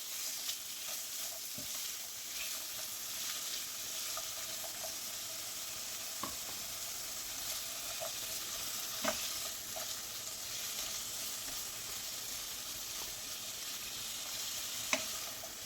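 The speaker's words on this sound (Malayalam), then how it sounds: "ക്യാരറ്റ് ഒന്ന് വഴറ്റി കൊടുക്കാം. അതുപോലെ ഒരു ഉരുളക്കിഴങ്ങാണ്, അതുകൂടി ഇട്ട് കൊടുക്കുന്നുണ്ട്." Long strips of carrot and potato sautéing in oil in a pan, a faint continuous sizzle with occasional soft scrapes and taps of a spoon, no talk.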